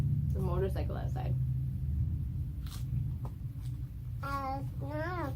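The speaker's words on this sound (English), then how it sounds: "It's not a thunder. It's a motorbike. Sounds like thunder though, right?" A low, continuous rumble of a motorcycle outside, like thunder, runs beneath a child's high-pitched babbling and talking.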